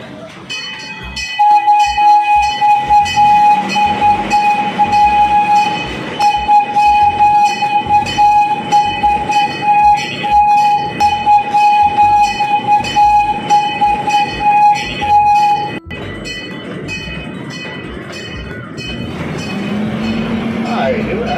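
A safari park passenger train in Hamilton, Ontario rumbles steadily close by with a long sustained horn tone and clattering, while voices talk over the noise before it fades slightly.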